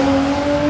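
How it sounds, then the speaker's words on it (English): A Toyota Supra sounds briefly at close range, a loud, steady engine drone with a strong tonal hum, heard in a short burst. "Oh yeah, that was a Supra."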